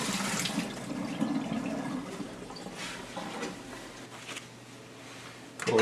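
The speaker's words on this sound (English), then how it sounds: "Pick up the water reservoir and pour that out in the sink." Water from a Keurig 2.0 coffee maker's reservoir pours into a sink, a close, fairly quiet splashing stream that thins out midway before a brief louder splash at the end.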